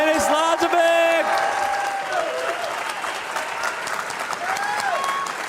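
A live audience at a speed chess championship finals applauds and cheers a winner, with sustained dense clapping and voices talking over it throughout.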